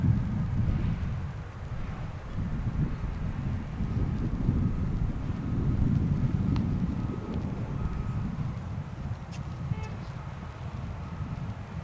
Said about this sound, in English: The mighty A300 touching down quite smoothly.